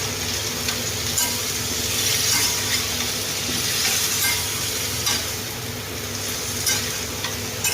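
Ginger and spices for a vegetarian raw jackfruit dish fry and get stirred in a pan, making a loud, dense, constant sizzle with scraping stir strokes, close up and with no voices.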